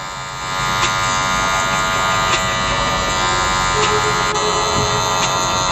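Electric hair clipper buzzing steadily up close while cutting a men's fade haircut, a constant loud hum with faint clicks as the blade moves through hair.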